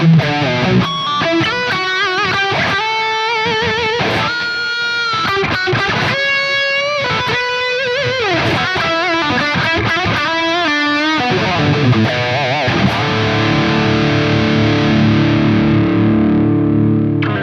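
A distorted, high-gain electric guitar plays a lead line through a Soldano SLO-100 amp plugin with fast runs and bends, full and saturated, ending on a sustained ringing chord.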